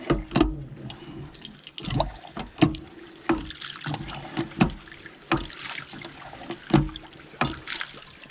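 A pump-action primitive camp sink at a backcountry campsite, worked by hand: water sloshes and splashes in a steady rhythm of repeated pump strokes, about one each second, close and fairly loud with no talking.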